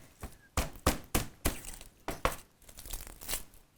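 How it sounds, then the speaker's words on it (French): A hammer pounds garlic cloves in place of a pestle, delivering a series of sharp, close, irregular thuds and crunching impacts, about eight strong blows followed by lighter crushing. "Si vous n'avez pas de pilon à la maison, éventuellement utilisez un marteau."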